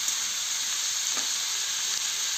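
Curry leaves, fennel seeds and black pepper sizzle in hot oil for an egg curry: a steady, bright, close frying hiss that runs throughout, with no voices.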